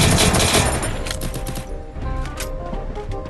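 Rapid gunfire from a Brazilian multiplayer shooter match, dense bursts overlapping in a busy, loud stretch that stays steady throughout.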